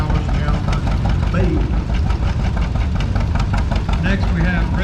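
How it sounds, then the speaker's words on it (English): A 1963 Allis-Chalmers Model D10 one-row tractor engine runs steadily in a parade at the Oklahoma Steam and Gas Engine Show in Pawnee, a loud continuous mechanical rumble with faint background crowd noise. "1963 Model D10. The D10 was just a one-row tractor, and this D10 replaced the famous Allis-Chalmers B."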